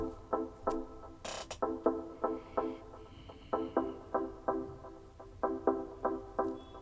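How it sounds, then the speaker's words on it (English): A repeating pattern of short, punchy synth chord stabs in a syncopated rhythm, moderately loud, with no other instruments. "So here are the stabs that are one of the main synth sounds of the track."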